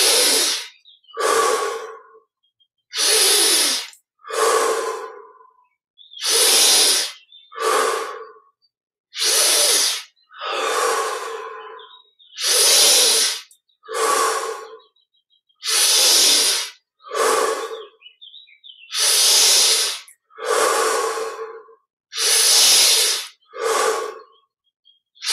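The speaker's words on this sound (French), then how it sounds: "Donc 20 respirations pendant lesquelles on va sentir à chaque fois la fraîcheur et le knusprig, comme on dit, le croustillant de l'inspiration." Deep, slow breaths taken during guided meditation, loud and close, with a long run of paired inhales and exhales separated by short silences and no talking.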